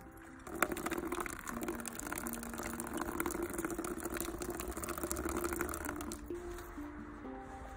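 Water poured over a fiberglass handpan hard case, a steady splashing, trickling wash that starts abruptly after a short pause and runs continuously at moderate level until easing near the end.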